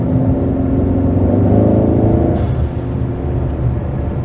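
Ford Mustang EcoBoost driving with a steady, loud low engine rumble and whir from inside the cabin, holding a constant drone with a slight shift midway.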